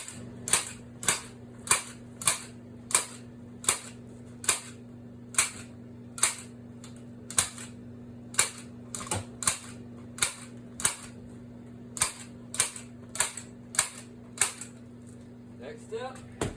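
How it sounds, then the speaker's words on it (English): A staple gun drives staples one after another along both sides of insulation tape on farmhouse ductwork, about twenty sharp, evenly spaced snaps close by over a steady low hum. "we're going to run staples back and forth on both sides of this tape"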